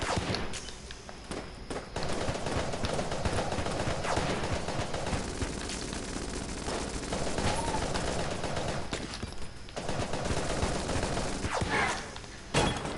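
Continuous rapid gunfire from many guns in the Enter the Gungeon video game, a dense unbroken barrage with thumps layered through it, loud and close throughout.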